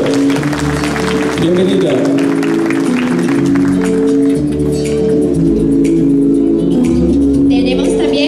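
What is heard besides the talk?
audience applause welcoming a guest at a pageant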